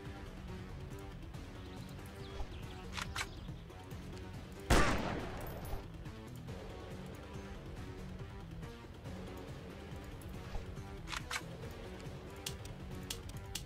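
Gunfire in a Unity3D video game: one loud, sharp shot cracks out midway over a dense, steady game soundscape, with scattered faint ticks before and after.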